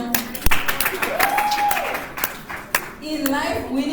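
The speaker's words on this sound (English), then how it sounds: "Round of applause for everyone." Audience applause breaks out at an annual general assembly: scattered hand clapping of moderate strength, mixed with voices and cheering throughout.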